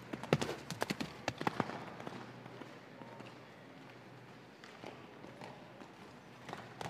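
A Friesian stallion moves around an indoor show ring at the KFPS stallion inspection. Faint hoofbeats clop in a quick series early on and then fade into a quiet, distant hall.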